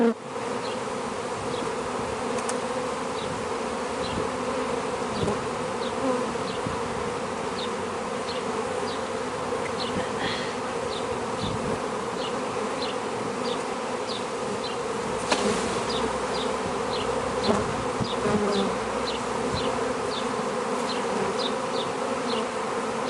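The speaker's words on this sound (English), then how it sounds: "I'm going to tap these girls into their new hive" Swarm of honey bees being tapped into a new hive, a dense, steady buzzing hum close by with scattered individual bee whines and a few soft knocks, no voices.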